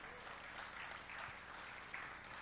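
Congregation at a church service applauding steadily throughout, a dense, even patter of clapping at moderate distance with no voices standing out.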